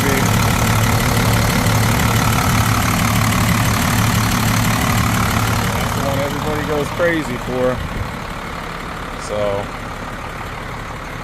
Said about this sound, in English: Big bad boy turbo diesel right there, baby.